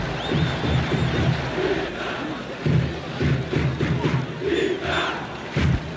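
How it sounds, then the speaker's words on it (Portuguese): Stadium crowd at São Januário in Rio chanting a player's name during a 2004 Vasco versus Atlético-PR league match, a broad roaring wall of voices that surges and swells in waves with no pause throughout. "A torcida gritava o nome do Petkovic, principalmente aqui das sociais, Lucas, e gritava:"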